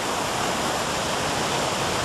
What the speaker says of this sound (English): catch the geysers being made by the water hitting the trees